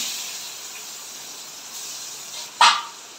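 Sliced onions hiss in hot oil in a kadai already seasoned with cumin, cloves, cardamom and cinnamon, a steady close sizzle that flares into a brief louder burst near the end.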